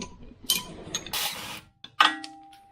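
A ratchet wrench on an 18 mm fastener of a BMW E36 gives short bursts of quick clicking, with metallic clanks and a sharp knock near the end, close and moderately loud.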